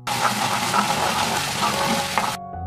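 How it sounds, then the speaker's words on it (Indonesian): Fish seasoning sauce with soy sauce being stirred in a pan, a loud close burst of frying sizzle with stirring scrapes that cuts off abruptly near the end, leaving only a faint hum. "Selanjutnya, aduk-aduk kembali hingga semuanya tercampur merata."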